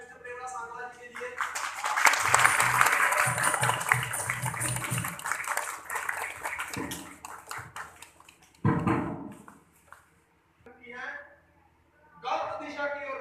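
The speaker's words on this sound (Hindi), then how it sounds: "मैं जोरदार ताली चाहूंगा मिस्टर प्रेमराज सांगला जी के लिए" An audience gives Mr. Premraj Sangla a loud round of applause at a lecture event, a dense burst of clapping that swells for several seconds before fading out amid scattered voices.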